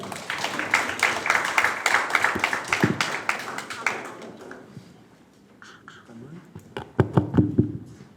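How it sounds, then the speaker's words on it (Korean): At a youth history research contest presentation, an audience applauds with brisk, dense clapping that fades after about four seconds, then a few scattered claps and noises follow, with a renewed burst near the end. "큰 박수를 맞으시기 바랍니다"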